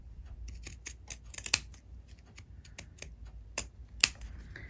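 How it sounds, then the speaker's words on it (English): Scissors or pinking shears trim fabric for a lined mini Christmas stocking ornament, giving a run of close, crisp snips of uneven spacing, with two sharper cuts standing out. "pinking shears or the regular scissors, just go ahead and just make it so that everything's going to lay nice and flat when you trim it all"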